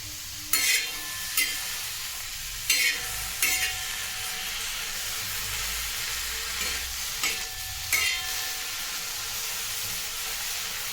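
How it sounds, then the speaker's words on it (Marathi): Roselle (ambadi) leaves crackle and sizzle softly on a hot griddle, with a few scraping stirs at irregular intervals over a steady low hiss. "तव्यात आंबाडी भाजून घेऊया"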